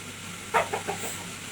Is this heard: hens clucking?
yes